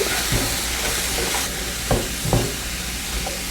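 Sausage, peppers and onions frying in a pan for a breakfast casserole, a steady sizzle and hiss with a few scraping stirs, close and moderately quiet, with no talking.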